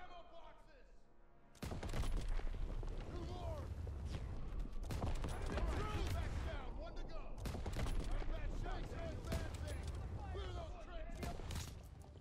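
Gunfire in the World War II shooter game Call of Duty WW2, with dense bursts of shots and impacts running continuously and loudly after a quieter opening, while a voice talks over the action.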